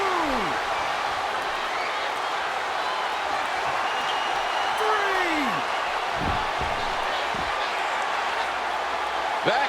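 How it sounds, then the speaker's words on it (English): An arena crowd roars throughout a WWE 2K14 wrestling match, a steady, loud wash of cheering with a few scattered thuds and swells rising out of it. "And listen to this crowd."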